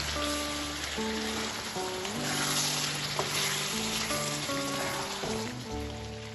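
Chicken with ground spices cooking down in a pan, a dense steady sizzle and crackle, close and moderately quiet, with sustained music tones playing over it throughout.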